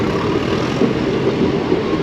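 Train rumbling steadily past at Mandya railway station, a continuous broad roar with low mechanical drone, fairly loud and close, no voices.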